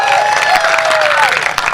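Audience applause at a Hindi poetry gathering (kavi sammelan), a loud burst of close, dense clapping mixed with crowd noise and a voice over it.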